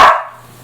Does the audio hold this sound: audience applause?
no